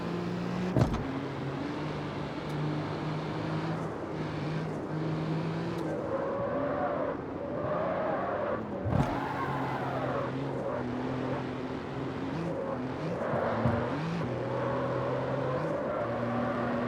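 A hybrid car in the CarX Street video game drives on its combustion engine, a steady droning engine note that rises and shifts in pitch through gear changes, with a couple of sharp clunks, close and continuous.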